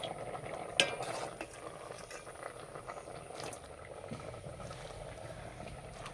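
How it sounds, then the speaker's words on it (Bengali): A ladle mashes boiled vegetables and lentils in a bowl, giving soft wet squelches and stirring scrapes with one sharp knock near the start, close and fairly quiet. "সবজি আর ডাল সিদ্ধ হয়ে গেছে, এবার হাতায় করে ঘুঁটে দেব।"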